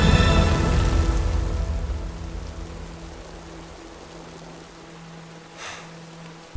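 Steady rain hiss during a Squid Game scene where the last two players compete in a downpour, loud at first and slowly easing to a softer, even wash with a brief swell near the end.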